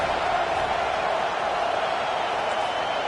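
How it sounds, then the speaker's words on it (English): Home crowd at an Alabama college football game roaring steadily as the defense faces third down, a dense, even wall of stadium noise that holds at one level throughout with no break. "Here comes his home crowd as the defense tries to get off the field on 3rd down."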